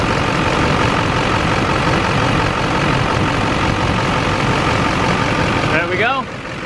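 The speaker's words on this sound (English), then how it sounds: "Runs good. No more knocking. No more eating coolant. This engine should be good to go." Repaired truck engine idling, a loud steady low rumble running close and unbroken, with a voice speaking briefly near the end as the engine noise drops slightly.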